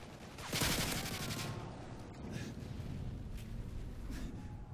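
Gunfire in the video game Modern Warfare 3: a burst of rapid shots up close followed by more distant muffled shots over a steady background hum, moderately quiet with no talk.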